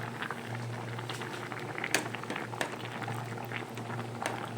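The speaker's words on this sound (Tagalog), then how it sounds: "Konting kulo pa at kakain na." Fish heads and tails simmering in coconut milk in a pot, a steady close bubbling boil with soft pops and patter throughout, no voices.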